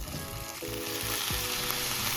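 Whole okra cooking over high heat in a pan, a steady close sizzle with a couple of brief stirring movements and a soft tonal background, with no one speaking.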